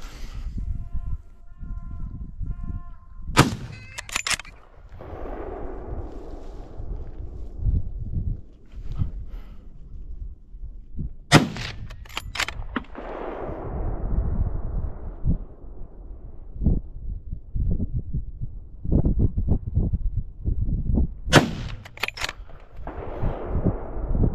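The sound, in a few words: gunshots during a wild boar driven hunt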